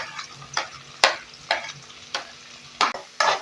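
Onions and a sprig of curry leaves sautéing in a pan for a banana-stem kootu, with several sharp spoon scrapes and stirring strokes over a soft, steady sizzle, close and clear with no talking.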